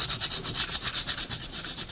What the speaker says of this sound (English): I kind of like to run a little sandpaper over it